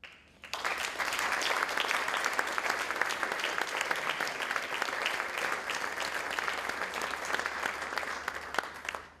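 An audience at a municipal awards evening in Radenci breaks into sustained, dense applause, many hands clapping evenly and at close range for several seconds.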